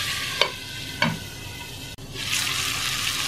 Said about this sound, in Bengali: এখন এ পর্যায়ে আমি এটাকে 2 মিনিট ঢাকা দিয়ে ফুটিয়ে নেব।